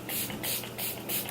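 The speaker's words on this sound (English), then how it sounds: "I love the spray. The spray is so fine." A fine facial mist sprayer fires four quick, breathy hissing pumps close to the mic in an even rhythm, each a soft burst of spray.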